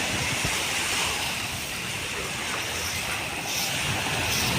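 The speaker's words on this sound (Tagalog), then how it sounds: "Lakas ng alon to no." Strong surf and crashing waves at Manila Bay during a typhoon, a steady broadband roar with wind noise buffeting the microphone throughout.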